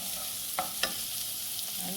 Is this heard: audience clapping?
no